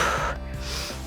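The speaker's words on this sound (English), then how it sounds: "Breathing in on the down," Sharp breaths during triangle push-ups in an upper body strength workout, a quick loud inhale followed by a softer exhale, close up and alone.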